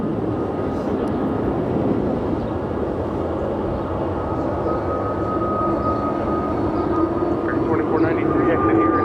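Jet engine roar from an American Airlines Airbus A321neo departing Los Angeles International Airport, a steady loud broadband rumble sustained throughout, with a thin tonal whine rising in the second half and faint radio chatter in the background.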